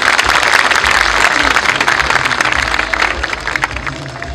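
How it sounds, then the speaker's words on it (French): Crowd applauding for the president of the Republic at the Elikamano 2021 gathering, a broad steady wash of clapping that stays loud across the whole stretch with no one speaking over it. "Acclamez s'il vous plaît pour le président de la République."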